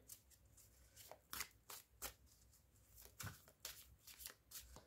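A deck of playing cards is shuffled repeatedly in a quiet room, giving a series of crisp riffling bursts at an irregular rhythm, close and fairly soft, with no talking.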